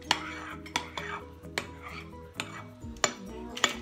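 Fluffy slime being mixed in a bowl, with a sticky squelching texture and sharp clinks of a utensil against the bowl roughly every half second, close and fairly quiet.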